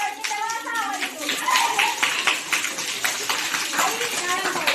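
Schoolchildren use their voices to imitate papad dropped into hot oil, making a loud, crackly, hissing burst with scattered claps. The noisy group effect lasts the whole moment in a classroom setting.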